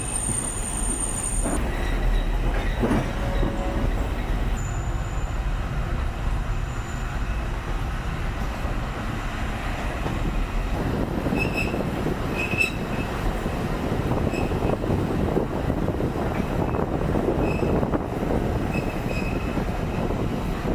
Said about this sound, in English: Alishan Forest Railway. The run will take about 7 minutes.